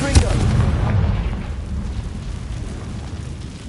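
A Confringo blasting spell goes off in the video game Hogwarts Legacy, a loud low boom with a sharp onset that rolls into a long rumbling tail fading over several seconds.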